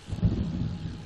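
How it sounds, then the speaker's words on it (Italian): Thunder from a lightning strike in the video game Plants vs. Zombies, a single low rumbling boom that swells quickly and then rolls on steadily with no talk over it. "Un fulmine, ti prego, un fulmine."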